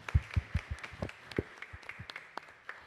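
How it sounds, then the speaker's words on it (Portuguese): Sparse applause for a professor at the close of a podcast talk, scattered individual claps rather than a full roar, fairly soft and thinning out over a few seconds. "Uma salva de palmas para o professor."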